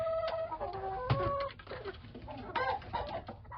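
A rooster crows loudly and close by, with hens clucking around it and busy farmyard bird noise throughout.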